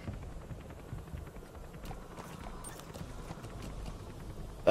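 Horse hooves clip-clop steadily across ground in Metal Gear Solid 5: The Phantom Pain, a soft, continuous patter of game footsteps over low rumbling ambience, ending in a brief louder burst.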